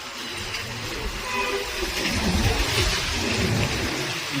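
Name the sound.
heavy rain at Rajkot bus depot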